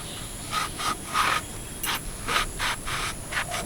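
A knife slices through an eggplant on a board, cutting it into pieces: a run of short, crisp rasping strokes in a loose rhythm, close and fairly quiet, with no talk.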